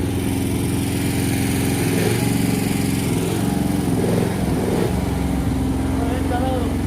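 A small machine engine, recently broken down and now running again, drones loudly and steadily nearby with slight rises in revs, while people talk over it.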